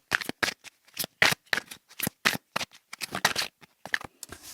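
Tarot cards are shuffled close up in quick, crisp riffling bursts, a dozen or so short flutters with brief gaps between, fairly quiet and alone.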